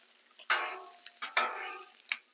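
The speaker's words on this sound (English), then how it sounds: "now everything's cooking good up over here. We got that bacon grease on the veggies." Vegetables cooking in bacon grease on a Blackstone griddle, with scraping or stirring strokes and a soft sizzle; a few short bursts stand out over a quiet background, with no talk.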